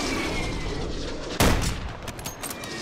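Gunfire in the Call of Duty Warzone battle royale game, with a sniper fight underway: one loud, sharp shot crack stands out midway through a steady wash of background noise, followed by fainter scattered reports.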